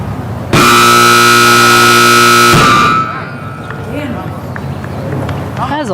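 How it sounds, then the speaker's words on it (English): A loud electronic buzzer blares once at a cattle dog trial, a harsh sustained tone lasting about two seconds close to the microphone. Arena noise and a few faint animal sounds follow, with a person talking around it. "That is a loud buzzer."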